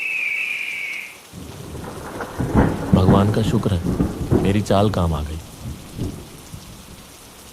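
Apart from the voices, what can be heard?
heavy rain and thunder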